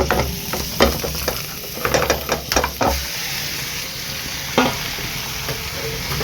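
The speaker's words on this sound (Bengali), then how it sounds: "বাটারটা গলে গেলে এবারে চিকেনটা এর মধ্যে একটুখানি হালকা নাড়িয়ে নেব" Chicken is stirred in melted butter in a pan over a steady sizzle, with a run of close, uneven spatula scrapes and knocks that gives way to quieter frying with an occasional scrape.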